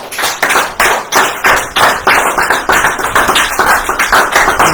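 A church congregation applauds, loud rhythmic clapping in a steady rapid pulse, sustained throughout with no talk over it.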